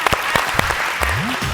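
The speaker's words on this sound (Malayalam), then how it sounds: "ഞാൻ ആദ്യം ഇതിൻ്റെ സ്ക്രിപ്റ്റിനാണ് നല്ലൊരു കയ്യടി തരുന്നത്." Scattered hand claps at a televised comedy show, loose and uneven rather than a full ovation, mixed with a voice speaking and a sliding pitched tone near the end.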